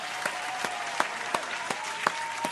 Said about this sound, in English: Charleston White get a round of applause